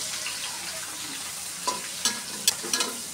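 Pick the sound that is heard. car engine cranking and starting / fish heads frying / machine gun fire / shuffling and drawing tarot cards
fish heads frying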